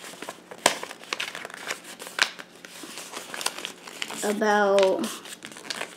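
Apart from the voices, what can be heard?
folding origami paper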